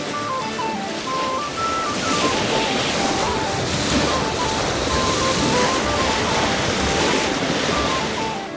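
Steady wind and rolling waves wash past a sailboat in Buzzard's Bay, a continuous loud roar of rushing water and wind buffeting the microphone, with faint tonal whines throughout and no talk.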